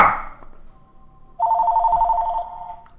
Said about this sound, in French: c'est mon téléphone qui sonnait